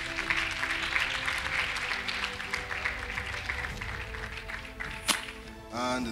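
A church congregation applauds during a testimony, with brisk, dense clapping throughout and one sharp crack near the end before a voice comes in.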